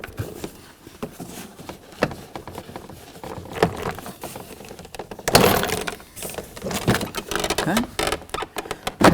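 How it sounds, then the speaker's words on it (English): Plastic door panel being pried and pulled away from the door of a 1992-2000 Chevy Tahoe, irregular clicks, cracks and scraping up close, sharper pops in the second half, with a brief spoken word. "I'm just going to try to pull and try to pry this away from the door"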